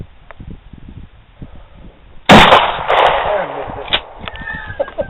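A shotgun fires a single rifled slug at a target outdoors: one sharp, loud blast that ends a quiet stretch and leaves a long rumbling echo behind it, with a few fainter rattles and clicks following.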